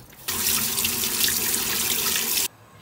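Tap water gushing into a sink over boiled pork trotters being rinsed, a loud steady rush that starts abruptly and cuts off after about two seconds.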